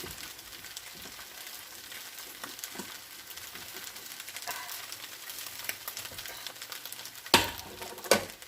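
Eggs frying in a hot, oil-free pan with chicken and noodle fried rice: a steady close sizzle and crackle throughout, with a couple of sharp clanks of a utensil near the end.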